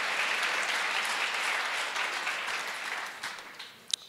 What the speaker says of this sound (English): I really appreciate you clapping about that.